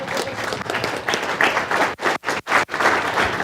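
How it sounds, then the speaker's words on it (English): A round of applause from a seminar audience at a sales training conference sounds out as steady, close clapping that breaks into a few brief gaps near the end before resuming. "give him a round of applause"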